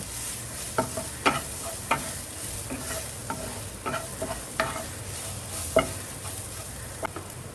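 Masala for ragda sautés in a pan, a continuous low sizzle punctuated by repeated sharp spatula scrapes and knocks at irregular intervals, close-up with no talking.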